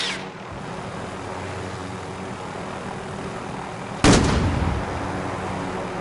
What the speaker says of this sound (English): Sniper's taking pot shots now too